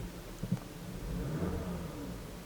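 A car engine on a scan tool test gives a brief rev, a low rising and falling swell under a faint mechanical hum, close and fairly quiet, with no voices.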